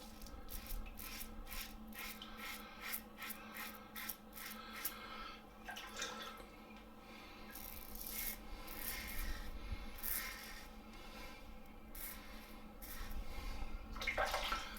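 Yaqi Telstar safety razor dragging through a few days of stubble, a close, steady scratchy rasp of repeated strokes that runs continuously for the whole stretch with no talking.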